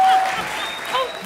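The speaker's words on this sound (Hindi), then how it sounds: "जोरदार तालियां के लिए." A short burst of clapping from a crowd, loudest at the start and tapering off within a second or so.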